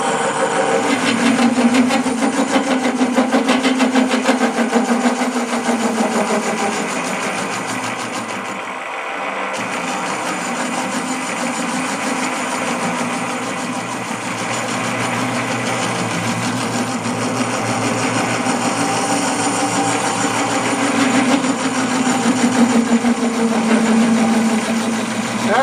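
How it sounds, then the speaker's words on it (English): A Vevor mini lathe's motor runs steadily, its tool cutting a steel hub, giving a continuous whirring machine drone with a slight dip partway through, up close and without speech. "it's cutting. It's cutting steel. I mean, you know, it's cutting this hub."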